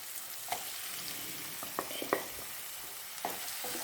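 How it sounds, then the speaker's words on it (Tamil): Ginger-garlic paste and chopped tomatoes frying for a hotel-style chicken gravy with no coconut, giving a steady soft sizzle broken by a few sharp scraping stirs close by, and no voices. "இதை நல்லா கிளறி விட்டு"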